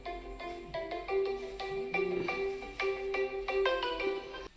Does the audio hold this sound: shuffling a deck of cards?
no